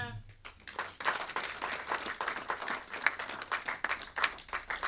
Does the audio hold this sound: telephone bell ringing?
no